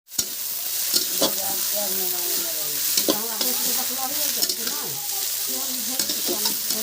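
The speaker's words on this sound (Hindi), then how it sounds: "सब्जी छौंकने की बारी" Cumin seeds tempering in hot oil for a bottle gourd curry, a steady close sizzle and crackle with occasional stirring clinks, heard continuously without talk.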